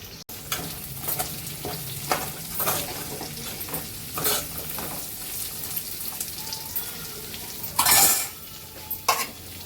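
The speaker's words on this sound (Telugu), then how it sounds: "ఇప్పుడు ఇందులోనే కొంచెం ఆయిల్ పోసుకుందాం ఇదే కళాయిలో వేసేయచ్చండి వేరే గిన్నె అసలు లేదు పచ్చిమిరపకాయలు వేస్తున్నాను" Green chillies crackle and sizzle in hot oil in a kadai up close, with occasional spoon scrapes and a clink of metal against the pan.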